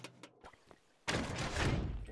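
Door opening in the Roblox game Pressure: after faint scattered taps and thumps, a sudden loud whooshing slide starts about halfway through and holds steady to the end, with no talk.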